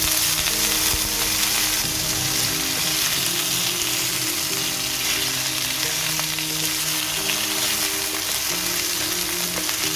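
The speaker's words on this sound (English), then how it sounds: "I'll heat some oil in the pan. Add in the potatoes." Potatoes fry in hot oil in a pan for an Anglo-Indian railway mutton curry, a dense, continuous sizzle and crackle that runs steadily throughout with no talking.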